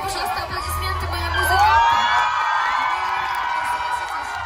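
A live concert crowd at an outdoor youth-day show in Vladivostok cheers and whoops loudly, a dense roar of voices and shouts swelling around the middle and holding steady to the end.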